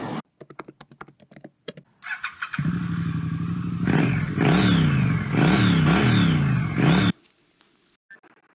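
A Speed 400 motorcycle revs and pulls away in monsoon rain on a ghat road, its engine rising and falling through several loud gear-shift surges after a few sharp mechanical clicks.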